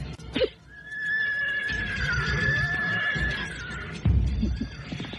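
A horse whinnies after its tether rope snaps: one long, wavering harmonic neigh of about three seconds, with a sharp thump just before and low rumbling and thuds after, close by and with no voices.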